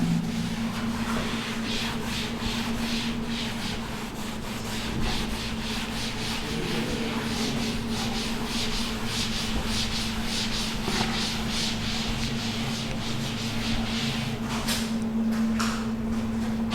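Writing being rubbed off a classroom board, heard as a long run of rhythmic scrubbing strokes, close and fairly loud, over a steady electrical hum, with no speech.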